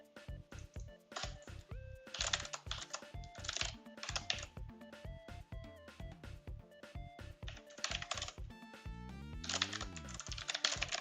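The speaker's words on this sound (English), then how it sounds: "That typing is abysmal." Typing on a computer keyboard during game development testing comes as rapid, uneven clusters of key clicks. Short pauses break them up and faint game sounds sit underneath, fairly quiet overall.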